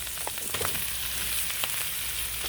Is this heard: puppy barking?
no